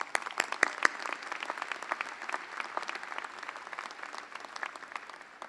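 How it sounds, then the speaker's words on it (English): A high school graduation audience breaks into applause, a steady, fairly distant patter of many hands that holds for several seconds and gradually softens. "Let's give them a round of applause."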